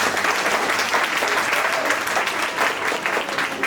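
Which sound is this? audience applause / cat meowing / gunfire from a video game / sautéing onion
audience applause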